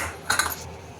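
A utensil clinks and scrapes against a bowl while a vegetable patty mixture with rice flour and semolina is stirred, two sharp metallic taps followed by a short scraping rattle, close and fairly quiet.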